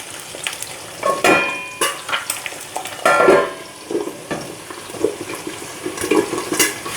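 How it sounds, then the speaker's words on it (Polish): Eggs sizzle and spatter in a hot pan, with scattered crackles and pops and occasional clinks, close by and with no talking. "przykryć i chwileczkę jajka smażymy"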